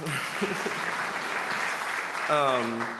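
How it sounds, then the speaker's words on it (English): Steady audience clapping at an emerging artists awards event, a continuous even wash from start to finish, with a short voice breaking through near the end. "Please clap."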